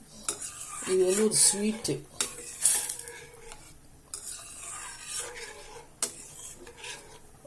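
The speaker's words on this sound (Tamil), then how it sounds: "பால் கிண்டிகிட்டே இருக்கிறோம்." A spoon scrapes and stirs milk and semolina in a metal pot for payasam, with irregular clinks and rasping strokes close by, while someone speaks briefly over it.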